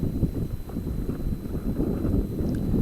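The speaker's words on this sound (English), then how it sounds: "It was a bit of a breezy night" Wind blowing across an outdoor microphone on a breezy night during a fox and rabbit hunt, a steady low rumble with gusty buffeting throughout and no speech.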